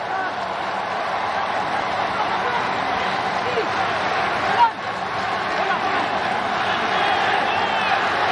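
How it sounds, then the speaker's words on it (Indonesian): Indonesian football supporters cheer at Singapore's National Stadium in Kallang during an Indonesia versus Malaysia AFF Suzuki Cup 2020 match, a steady roaring crowd din that stays loud throughout, with a brief louder swell midway. "Irfan Jaya mendengar sorak-sorai para supporter Indonesia yang datang ke stadion Stadion Nasional Singapura di Kallang"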